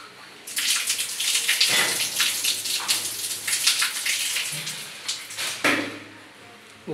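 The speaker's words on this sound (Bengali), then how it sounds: "পুরোটা ভাবে ক্লিয়ার করে পানি আসতেছে" Water gushes from a bathroom tap in a newly wired bathroom, a steady close hiss that starts abruptly, runs for several seconds with a brief dip, then stops.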